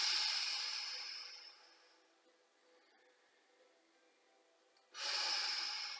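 Two big, noisy breaths taken during a yoga session, a long rushing exhale fading out, a quiet pause, then a second strong breath starting abruptly, close to the microphone with no talking.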